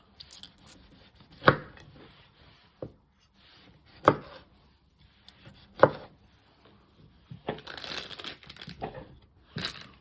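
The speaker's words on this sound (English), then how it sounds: "So just keep chopping them" A knife cuts cherry tomatoes into small pieces on a board, giving sparse, separate chops and crunchy squishes a second or two apart, with softer handling noise between and no talking.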